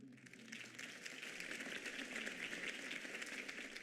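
Crowd applause in the Batman Telltale game, a steady wash of many hands clapping, faint and continuous at an even level throughout.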